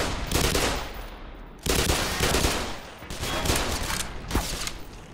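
Repeated gunfire in Black Mesa, loud bursts of rapid shots in several clusters separated by brief pauses, close and harsh with no talk over it.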